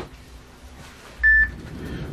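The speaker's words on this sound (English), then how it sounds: "Now the phone's ringing." A phone ringing gives a single short electronic beep, clear and fairly close, over a quiet room hum with no talking.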